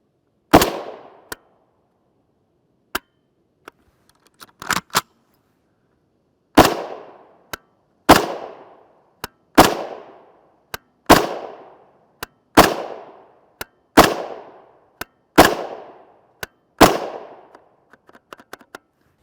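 A 10.4-inch FN P90 short-barreled rifle fires 5.7x28mm 30-grain SS200 hollow-point rounds: about ten loud, sharp single shots spaced roughly a second apart, each ringing off, with a few faint clicks between them.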